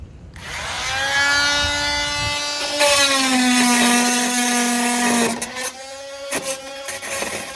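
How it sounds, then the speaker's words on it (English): An oscillating saw cutting out flasher lights on a school bus being converted into a skoolie, a loud, steady, high-pitched buzzing whine that lasts several seconds, then stops and restarts in short bursts, close by. "I was able to get them out with the last one out with this oscillating saw."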